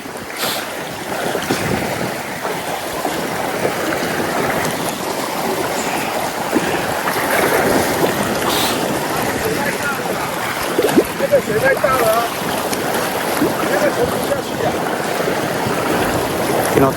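Strong river current rushing past a fishing net during fishing, a loud continuous broadband wash of moving water that persists throughout with no clear voices.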